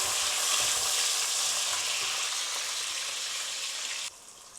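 Onion rings and tomato fry in a pan for kushka, giving a loud, dense, continuous sizzle with light stirring, which drops off sharply near the end.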